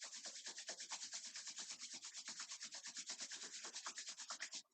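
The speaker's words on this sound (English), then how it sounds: "Rub the palms one more time." Palms rubbed briskly together during a yoga session, a fast, steady run of soft swishing strokes, close but quiet, with no talking.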